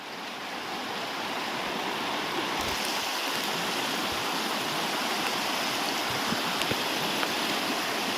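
Water flowing across a road near a waterfall rushes steadily and loudly, a constant broadband wash close by, with a few faint knocks and clicks and no voices.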